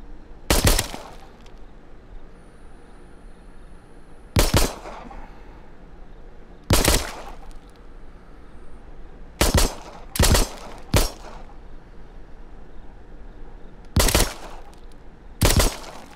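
Gunfire in the VR zombie shooter Arizona Sunshine: loud, sharp bursts that come singly or in quick pairs, spaced a couple of seconds apart over a quiet background.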